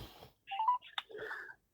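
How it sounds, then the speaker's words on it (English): Telephone dialing tones play as a call is placed, a few short electronic beeps and tones in quick succession, faint and brief with a click between them. "Ringing up Graeme Kenna, the City Solicitor for Bradford"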